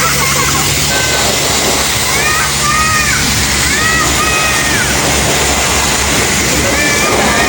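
High-pressure rinse water spraying onto a car at a coin-operated car wash in Spain, a loud steady rushing hiss with splashing throughout, and voices talking over it.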